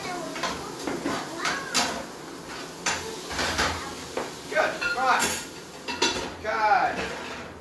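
Cooking pots and pans clank and scrape as someone rummages through a kitchen cupboard to pull out a big cooking pot, a series of loud metallic knocks and ringing clatters, with voices talking at moments.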